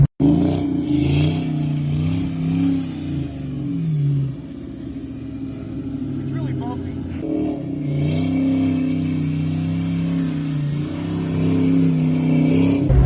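A muscle car engine rumbles loudly and steadily, with rising and falling revs and a brief dip in the middle, echoing, no voices present.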